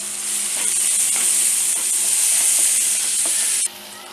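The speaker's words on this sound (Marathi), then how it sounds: "ही कोथिंबीर आपल्याला थोडी फोडणीमध्ये टाकायची आहे" Fresh coriander hits hot tempering (phodni) for Maharashtrian stuffed brinjal, giving a loud, steady, close sizzle and fry that runs unbroken for several seconds before dropping away suddenly.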